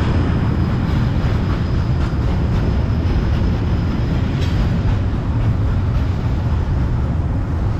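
A train rolls past in a city at evening, a steady, loud, continuous rumble filling the whole stretch with no break or pause.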